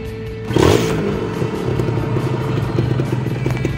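Two-stroke engine of a 2013 Kawasaki Ninja SS with its standard exhaust starts up close by and settles into a steady, buzzing idle.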